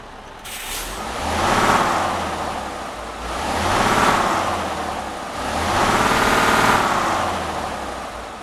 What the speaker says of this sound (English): Let's go ahead and get this truck started up and get on the road.